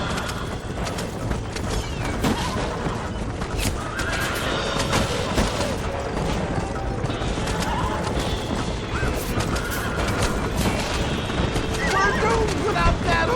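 A horse in the Red Dead Redemption video game neighs and whinnies loudly while hooves clip-clop at a gallop, with crashing effects and a voice pleading over the continuous action.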